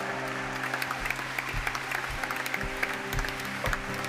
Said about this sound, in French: Nous pouvons les applaudir bien fort